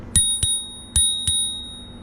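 The bicycle bell on a Blix Sol Eclipse 26-inch cruiser e-bike rings four times, in two quick pairs of bright, close, loud dings that ring out briefly.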